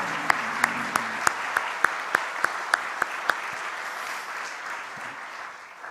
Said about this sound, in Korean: 다시 한번 우리 큰 박수로 축하합시다.